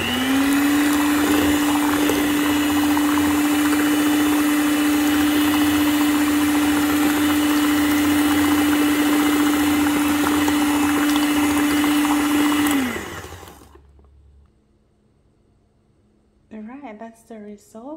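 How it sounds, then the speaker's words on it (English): An electric mixer whirring steadily through mango ice cream mixture, a loud continuous motor drone that holds for about thirteen seconds, then winds down and stops, followed by brief talking. "I'm gonna try and do the electric mixer now"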